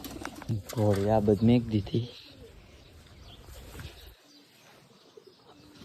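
Someone talks briefly near pigeons, then soft cooing and faint flutters of wings follow in a quieter stretch.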